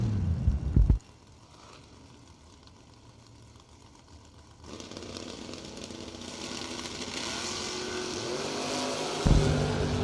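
A drag racing car launches from the starting line at a Christmas bracket race, a loud engine roar cutting out, then a distant rising engine note building steadily, ending in another loud burst nearby.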